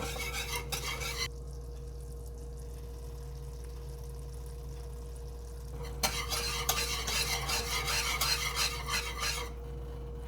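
A spoon scrapes steadily through thickening Alfredo sauce in a pan, close and continuous, with a brighter burst of stirring toward the end and no talking.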